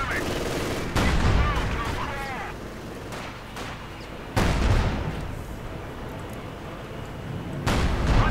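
Game battle sounds from Company of Heroes 2, with grenadiers firing a captured machine gun: loud, close bursts of gunfire and explosive impacts come in several sharp clusters over a rumbling background.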